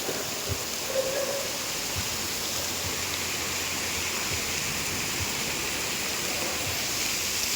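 A constant, heavy rush of falling rain fills the air, broad and unbroken, with occasional faint low thumps beneath it.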